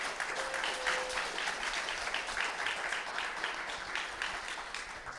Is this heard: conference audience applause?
yes